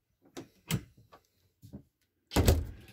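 The bedroom door inside an RV, which does not close easily, gives a few light knocks and scrapes, then a louder thudding close near the end, heard up close in a quiet room.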